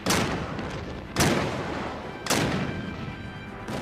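Cannon fire from the ironclad Virginia engaging the Union Monitor: three loud, heavy booms roughly a second apart, each a sharp broadband blast with a rumbling tail, close and dominant with no talk.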